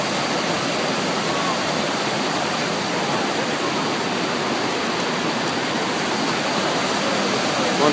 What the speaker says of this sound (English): Hidden Falls on the Teton Mountain Range